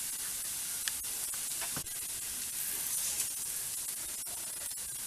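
Carrot fry cooking in a pan over a low flame, a steady soft hiss and sizzle with faint crackles, close and fairly quiet, no talking.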